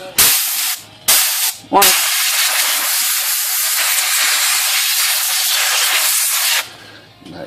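Compressed air blown through a vintage typewriter: two short, sharp hissing bursts, then a long steady blast lasting several seconds before cutting off, loud and close, with a brief spoken word near the start.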